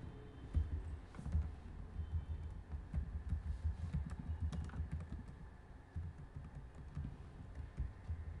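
Continuous typing on a computer keyboard while writing Java code, a steady run of soft close key clicks with a low hum underneath and no talking.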